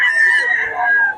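Rooster crowing at a busy chicken market in Bocaue before dawn: one long, loud, close crow held steady and tapering off at the end, with no talk over it.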